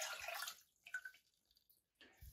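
Water poured into a cooking pot for boiling with sugar, a short splashing pour up front that fades into faint drips and quiet trickling, then a low thump near the end.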